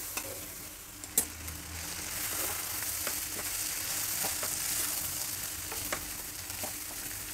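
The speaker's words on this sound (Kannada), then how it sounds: "ಅನ್ನ ಎಲ್ಲ ಚೆನ್ನಾಗಿ ಹುರಿದಿದ್ದಾಯಿತು, ಒಗ್ಗರಣೆನಲ್ಲಿ ಹಾಕಿ ಸ್ವಲ್ಪ ಬಿಸಿ ಮಾಡಿದ್ದಾಯಿತು." Cooked rice is stirred and fried on low heat in a pan of tempering, giving a soft, continuous sizzle with scattered scraping clicks of the spoon, close and fairly quiet.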